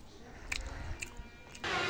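Someone eats puffed rice (muri) right up close, making a few quick crunchy bites and chews over a background hum, with a louder rustle at the end.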